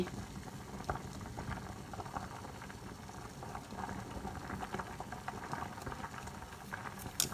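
A pot of water boiling on the stove with fish cooking in it, giving a continuous close rolling bubble and hiss with faint clinks and no talking.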